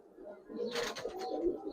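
Pigeons cooing at a Bangladeshi pigeon seller's stall of Giribaz, Sapchila and Hericale breeds, a low rolling murmur over about a second with bird calls mixed in and a voice nearby.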